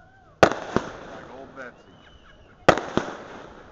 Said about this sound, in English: Big old cannon.